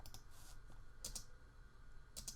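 A few computer keyboard keystrokes clicking while a 3D animation program is used, sparse taps spread out over quiet room tone with no talking.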